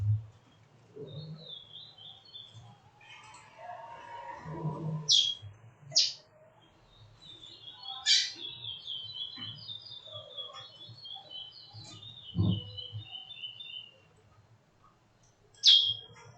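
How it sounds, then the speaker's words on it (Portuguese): A small bird chirps in short repeated bursts, near and fairly clear, with pauses between calls and a low hum beneath it; no one talks. "Por enquanto, só o passarinho que está falando aqui."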